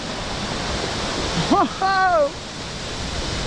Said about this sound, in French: On va se rapprocher. Et déjà ça balance beaucoup d'eau.